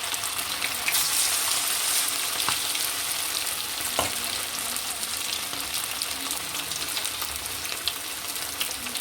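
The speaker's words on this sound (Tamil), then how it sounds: "எண்ணெய் நல்லா காய்ஞ்சி வந்துடுச்சு. இப்போது சிக்கனை நம்ம அதில் போட்டுக்கலாம்." Chicken 65 deep frying in hot oil over a medium flame, a dense, even bubbling sizzle that stays loud and close, with an occasional clink.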